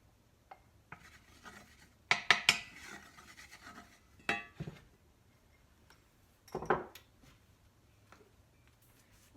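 A pan previously used for frying vegetables set onto a stove burner, giving several close metallic clanks and scrapes in separate clusters against a quiet kitchen background.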